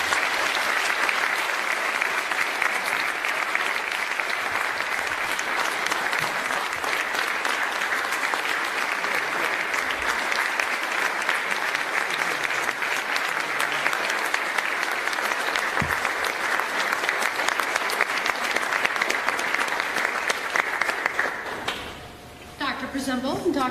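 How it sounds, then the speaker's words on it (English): A crowd applauds a student vehicle-building team, sustained dense clapping that carries on for over twenty seconds before tapering off as a voice begins to speak. "I'd like to give one last round of applause for this phenomenal team."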